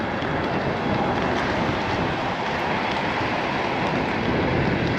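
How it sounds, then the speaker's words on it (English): A GO commuter train passes near a bike path in Mississauga as a loud, steady rushing rumble with faint rail clatter, continuous and close, with no talk. "they take the GO train"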